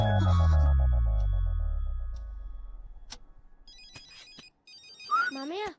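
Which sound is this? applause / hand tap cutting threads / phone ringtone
phone ringtone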